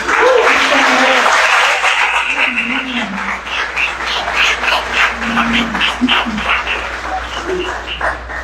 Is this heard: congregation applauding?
yes